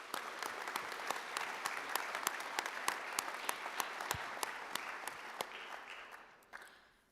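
A crowd applauds steadily at a sonography pinning ceremony, with dense clapping and a few sharper claps, fading out toward the end.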